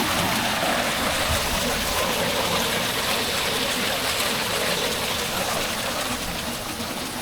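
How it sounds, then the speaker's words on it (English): Steady, full rush of water pouring and splashing in an outdoor water feature at a popular spot in The Villages, Florida, continuous and close with no pauses and no talking. "Let's take a look at this water feature."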